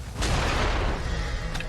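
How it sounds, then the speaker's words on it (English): A hand cannon fires once in the video game Nioh, a single loud, close booming blast with a long rumbling tail and a faint second crack near the end. "Let's go for the hand cannon."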